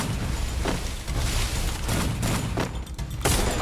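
Rapid gunshots in the Free Fire video game, a sustained volley of loud, punchy shots with several distinct sharper bursts spaced through the stretch, with no talking.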